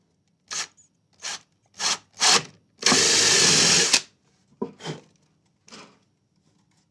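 Power drill boring holes into a Les Paul guitar body: four short separate bursts, then one long steady whine lasting about a second, followed by a few more brief bursts, close and clear with no talking.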